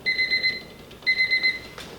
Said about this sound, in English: Okay, so the timer is about to go off here.